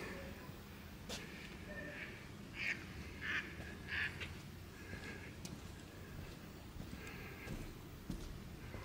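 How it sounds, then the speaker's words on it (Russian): Ducks quack in a meadow park, giving several short, fairly faint calls in a loose cluster over steady outdoor background noise. "Крякают уточки"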